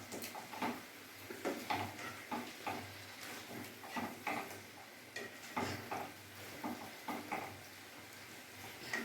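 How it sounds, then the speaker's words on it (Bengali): Marinated chicken is stirred with spices in a pot over a raised gas flame for a dhaba-style curry, giving quiet repeated scrapes and soft clinks with a faint sizzle underneath. "এবার আমি মশলার সাথে ভালোভাবে মিশিয়ে নেব।"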